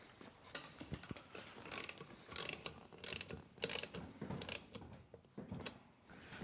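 A wrench clicks and ratchets in irregular bursts while bolts are tightened on a John Deere 1025R subcompact tractor seat, close and faint with no talking.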